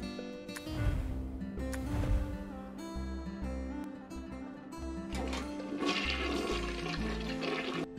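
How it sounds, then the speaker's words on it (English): A toilet flushes as a sound effect in the video game Unpacking, a rushing water swell heard over steady background music for several seconds. "we're flushing our first toilet"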